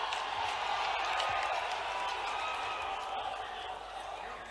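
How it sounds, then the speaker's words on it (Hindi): Applause from an audience at a live event in Uttar Pradesh where the Prime Minister joins an air terminal inauguration virtually, a steady, dense wash of clapping and crowd noise that holds throughout and eases slightly toward the end. "आपकी जोरदार तालियों के साथ"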